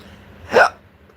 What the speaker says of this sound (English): Oh, great, I got the hiccups.